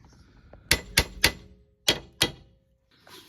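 Five sharp metallic hammer blows strike a tapered joint on a Ford Focus ST225 drive shaft assembly, three quick hits, a short pause, then two more, close and ringing in a quiet workshop.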